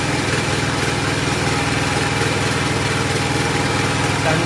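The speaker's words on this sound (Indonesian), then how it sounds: "Genset sudah hidup." A Sumura ET4000L generator runs with a loud, steady engine drone and a fast, even pulsing chug, heard up close with no voices.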